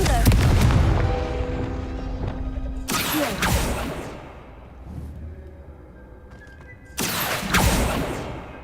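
Confringo blasting spell explosions in Hogwarts Legacy: loud booming blasts with crackling, ringing tails, one at the start and others near three and seven seconds, set against softer game ambience.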